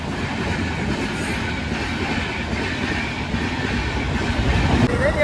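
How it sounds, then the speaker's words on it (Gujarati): A train rolls past close by with a loud, continuous rumble and rattling wheel noise. The sound swells slightly toward the end, and faint voices are mixed in. "રેલગાડી નડવાની નહીં"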